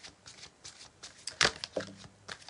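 Tarot cards shuffled by hand during a fairy-themed reading, giving soft papery riffles and flicks in short bursts, with one louder snap partway through and no talking.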